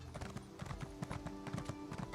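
Rhythmic clip-clop of a horse's hooves in the video game Elder Scrolls Online, a quick steady trot heard fairly close over a faint humming game background.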